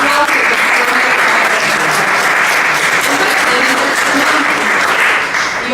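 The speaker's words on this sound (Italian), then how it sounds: "io appunto vi vorrei incitarvi per un applauso" An audience applauds a book's author, with sustained, even clapping from many people filling the room, loud and steady for several seconds before easing slightly at the end.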